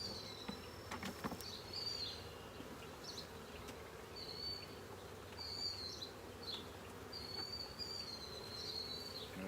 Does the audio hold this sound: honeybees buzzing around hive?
yes